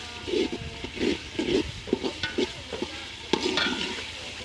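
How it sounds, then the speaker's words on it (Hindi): Pickle fries and is stirred in a pan while making aloo pulao, a steady sizzle broken by a string of rhythmic scraping stirs, close and fairly loud, with no voice. "अचार के 1-2 मिनट के लिए बस हमने भूनना है इसके अंदर"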